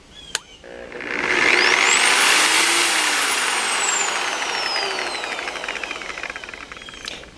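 A Simoniz 7-inch polisher and sander is triggered on, whining up to speed with a rising pitch sweep, then running steadily at a high, loud electric whir before cutting off.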